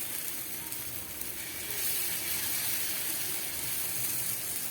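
Sprouted moong uttapam batter is poured onto a hot pan, and a steady broadband sizzle holds throughout, swelling slightly about halfway, with no talk.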